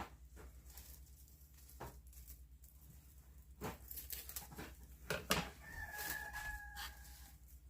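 A rooster crows faintly in the distance behind a quiet kitchen, with soft clatter and rustling nearby and a longer drawn-out call toward the end.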